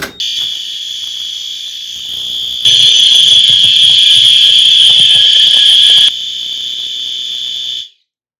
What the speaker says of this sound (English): all of these SpectrAlert Advances have been updated and are now on continuous high volume